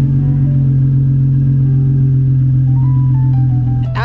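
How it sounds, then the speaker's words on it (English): Nissan 350Z with a muffler delete idles with a loud, steady, deep exhaust drone close by, holding even throughout before a brief shift near the end. "Absolutely nowhere near the loudest exhaust for the 350z, but I will say it's kind of like a gentleman's exhaust."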